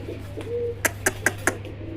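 Desi Bombay pigeons in a loft, a soft low coo followed by four evenly spaced sharp calls or wing flaps over a steady hum.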